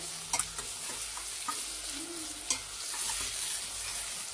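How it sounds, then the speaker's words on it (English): Tomatoes cooking down in a pan on slightly reduced heat for a sugar bean curry, a soft sizzle beneath repeated light clicks and scrapes of a spoon stirring, close by and fairly quiet. "I'm going to reduce the heat by like 1 notch, and then I am going to let the tomatoes cook down."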